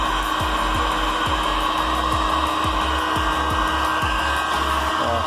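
A hair dryer blows steady hot air onto a motorcycle's plastic fairing, a constant loud motor whir and rush with a faint repeating rattle and no talk.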